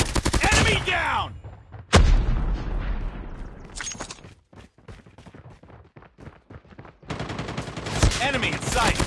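Gunfire in a Call of Duty Mobile team deathmatch: loud, rapid automatic bursts and sharp single shots come close up, fade into sparse pops, then surge again.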